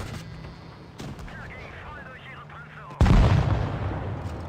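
Cannon shots from a Leopard 1 tank in a video game: a sharp blast, then a much louder, booming shot a couple of seconds later that rumbles on, over a continuous low battle background.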